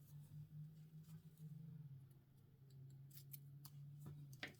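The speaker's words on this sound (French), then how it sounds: "Le petit bout de fil qui dépasse, on peut le couper." Scissors snip the loose end of knitting yarn, giving faint, quick clicks near the end over a steady low hum in a quiet room.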